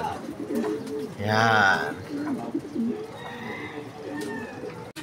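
Racing pigeons coo at the loft, one throaty coo rising clearly around the middle, with softer bird sounds and someone speaking briefly nearby.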